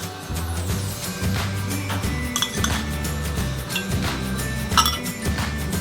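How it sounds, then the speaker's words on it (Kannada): A pan set down on a stove and handled while cooking masala for brown rice paddu, with repeated clinks and knocks of metal cookware and utensils at close range and no voices. "ಒಂದು ಪಾನ್ ಇಟ್ಕೊಂಡಿದ್ದೀನಿ, ಸ್ವಲ್ಪ ಎಣ್ಣೆ ಹಾಕೊಳ್ಳೋಣ ಅದಕ್ಕೆ."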